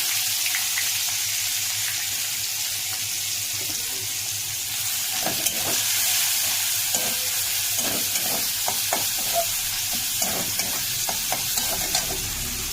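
Onions sizzle and crackle in a hot pan, with occasional scraping and clinks of a utensil stirring; no one speaks.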